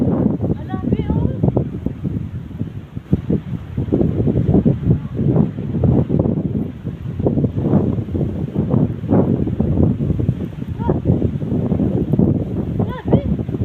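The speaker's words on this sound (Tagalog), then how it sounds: "Grabe siya kakaibang hangin" Strong gale wind during a Maine blizzard, roaring and gusting in continuous buffeting surges close to the microphone, with people talking over it.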